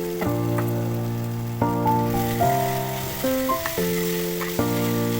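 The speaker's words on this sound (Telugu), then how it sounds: "ఆ అటుకులు వేసి వేయించుకోవాలి" Flattened rice (poha) fries in a pan for pulihora, giving a soft, continuous sizzle under louder background music with shifting sustained notes.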